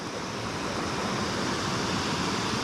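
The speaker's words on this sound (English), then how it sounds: "Waterfalls." A waterfall along a mountain trail on the descent from Imogene Pass to Telluride, Colorado, gives a steady, dense roar of rushing water that holds unbroken at an even level throughout.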